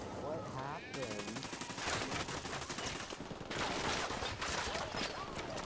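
Video game combat with a frag grenade thrown and detonating amid dense automatic gunfire, loud overlapping bursts and sharp reports throughout, broken by brief lulls, with voices talking over the action.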